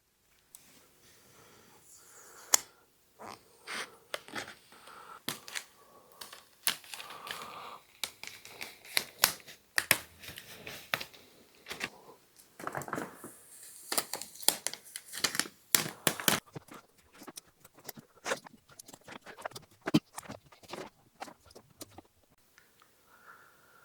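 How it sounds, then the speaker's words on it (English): Masking is peeled off a painted sign, a long run of faint crinkling, tearing and tacky ripping sounds in irregular bursts, close up with no talk. "So I'm going to start peeling off some of this masking."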